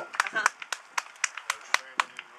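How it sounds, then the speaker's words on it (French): Scattered claps ring out in an irregular rhythm at a polo club event in Luxembourg, a few hands applauding close by rather than a full crowd. "Sous vos applaudissements."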